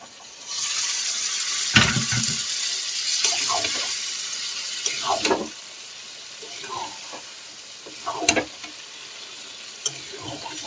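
Loach fish go into a frying pan of spiced masala with a loud hissing sizzle that rises in several bursts, mixed with scraping and stirring over about ten seconds.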